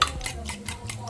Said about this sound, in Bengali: এটা দুধের সঙ্গে ডিমটা ফেটে নিলাম